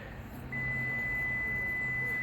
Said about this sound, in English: And you heard the beep. That means I can't lock the door because I got the door open.